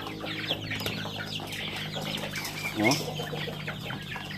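Young Rhode Island Red chickens, about two months old, cluck and chatter in a farmyard pen, with a steady low hum behind them and a brief spoken exclamation partway through.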